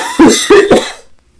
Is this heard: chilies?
no